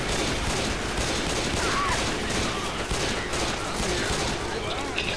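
Continuous gunfire from the video game Left 4 Dead 2, a dense, unbroken roar of rapid shots and chaotic combat noise, loud and sustained throughout.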